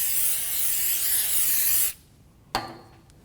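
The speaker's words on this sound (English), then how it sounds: "I'm going to spray it down with some brake parts cleaner." A loud continuous aerosol spray of brake parts cleaner hisses for about two seconds onto a brake part of a Mazda 3, cuts off, then a short clack of handling noise follows.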